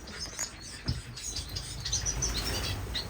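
Small finches, including firefinches and star finches, chirp in a breeding aviary, with several quick, high tweets scattered over soft rustling and pattering.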